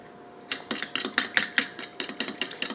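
A batter of three eggs and about half a cup of milk whisked in a bowl: a steady run of roughly a dozen crisp, rhythmic clinking strokes, close and fairly quiet, with no talking.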